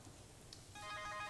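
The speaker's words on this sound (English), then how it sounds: "Here goes my phone" A mobile phone starts ringing inside a workshop near a 1957 MGA, a faint melodic electronic tone rising in the second half over quiet background.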